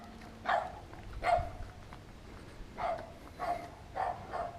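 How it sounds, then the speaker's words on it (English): A neighbour's small dog barks from a distance outdoors, about six sharp barks in uneven bursts, faint against background noise. "That neighbor's lovely dog."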